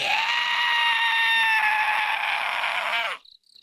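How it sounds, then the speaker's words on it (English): A strange, terrible scream, sustained and harsh, rings loud and alone for about three seconds across a mountainside in the visual novel Summer Pockets, then cuts off abruptly. "A strange, terrible scream echoed across the mountainside."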